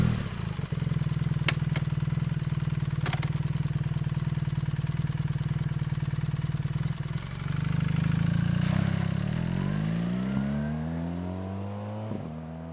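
A BMW R 1300 GS motorcycle idling with a loud, steady low thrum, a few clicks, then revving and pulling away as the engine note climbs and fades through the gears.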